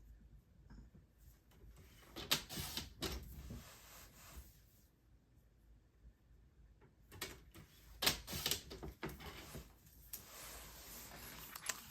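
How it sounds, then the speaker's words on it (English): Paper is cut into half-inch strips for a stamped card project, with two separate bursts of crisp snipping and rustling paper separated by a quieter stretch. The cutting is close and sharp, with no talking. "we'll cut off a couple of 1/2-inch strips"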